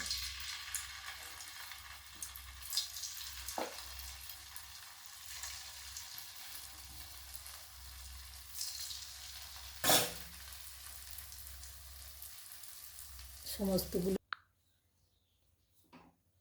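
Cauliflower pakoras deep-fry in hot oil with a constant close sizzle and occasional clinks, until the sound cuts off near the end.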